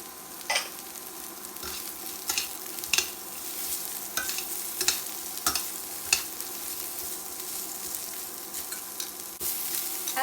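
Thinly sliced carrots stir-frying in a pan for a beef and vegetable noodle dish give a steady close sizzle, with sharp scraping stirs breaking through every second or so across the whole stretch.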